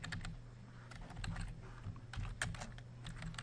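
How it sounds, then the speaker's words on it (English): HTML code being typed on a computer keyboard, a fast, irregular run of close, quiet key clicks that continues throughout with no talking. "So let's type in our HTML document, link rel equals"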